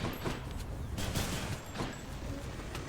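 An electric gun firing in Hades, heard as a steady stream of rapid crackling shots with a few sharper bursts at a moderate level throughout.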